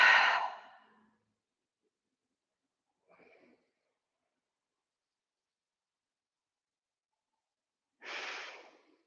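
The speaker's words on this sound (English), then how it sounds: "Exhale, let it go. Do it again. Breathe in." During a yoga session a person takes a deep audible breath and exhales, then a faint breath follows, and after a long silence another strong breath sounds, close and alone without talk.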